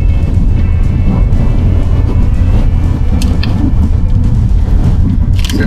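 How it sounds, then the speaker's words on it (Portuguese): A Chevrolet Onix Plus engine drones steadily from inside the cabin while accelerating uphill, a low constant rumble with road noise and no speech. "Você até consegue escutar o ruído do motor um pouco mais alto"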